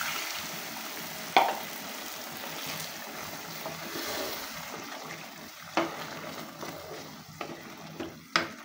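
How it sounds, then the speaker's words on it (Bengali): Broth goes into a pot of beef cooked with chickpea lentils, bringing a continuous bubbling sizzle with a few sharp clinks of a spoon against the pot at intervals. "এখন আমি পরিমাণ মতো ঝোল দিয়ে দেব"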